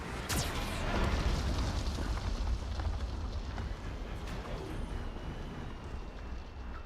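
Heavy blasts from a Geth cannon in the video game Mass Effect 2, a loud burst followed by a sustained booming roar that rumbles steadily for several seconds.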